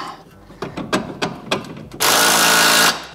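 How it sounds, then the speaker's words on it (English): A power tool fastens the shock bolt on a BMW E92 M3 suspension while Öhlins Road and Track coilovers are installed: several short metallic clicks and taps, then about a second of loud, steady mechanical whirring. "So we're just fastening the shock to the arm."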